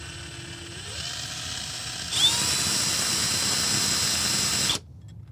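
A small electric drill with a 3mm bit whines steadily, its pitch jumping higher as it bites in, running for a few seconds before cutting off abruptly.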